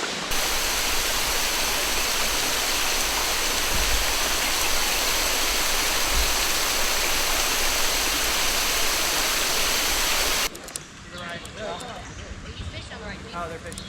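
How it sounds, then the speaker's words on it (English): Waterfall trickling down over rocks beside the Kentucky River on a summer day, a loud, steady broadband rush for about ten seconds, then it quiets as a person begins talking over a fainter background. "that waterfall, it's pretty."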